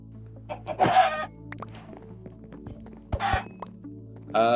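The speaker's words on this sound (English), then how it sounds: "But let's say you're killing, like, a chicken." A Minecraft chicken clucks in short bursts, a few game-sound clucks spaced apart over a steady low background hum, loud and close.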